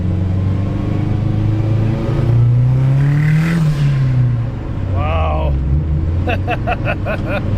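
A turbocharged Datsun wagon engine with a GT3582 turbo idles loud and close, then revs up and back down in a rising and falling sweep with turbo whine. The wastegate dump pipe is detached, and faint chirps follow the rev.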